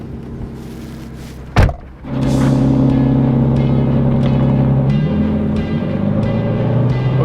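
The priceless one-of-a-kind Aston Martin DB11 prototype pulls away on a track after a sharp thump, its engine settling into a loud, steady, close-up drone that rises slightly in pitch toward the end.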